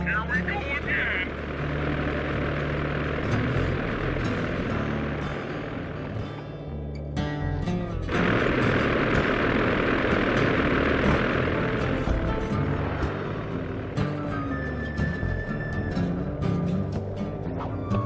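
Propeller airplane engine droning steadily through a level in the Sly 2 video game, loud and continuous with a brief dip midway, game voices and sounds mixed over it.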